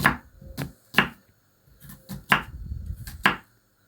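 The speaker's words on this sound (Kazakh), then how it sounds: "Мында пиязды турауға кірісіп кеттім." An onion being diced into small cubes with a knife on a board for manti filling: about seven sharp, close chopping strikes in uneven bursts, with a soft rustle between them and no talking.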